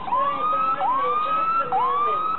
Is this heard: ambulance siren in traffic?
yes